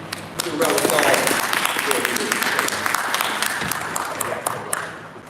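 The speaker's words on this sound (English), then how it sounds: "Give a round of applause." Audience at a compliance panel discussion in Atlanta applauding to welcome Mayor Khalil, sustained clapping with sharp individual claps standing out and some voices underneath.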